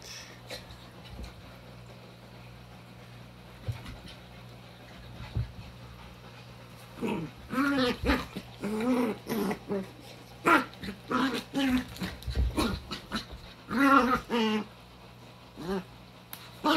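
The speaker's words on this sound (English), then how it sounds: "Dogs in quarantine." Puppies growl, yip and huff in bursts of rough play, close and lively, with breathy sounds between the scuffles.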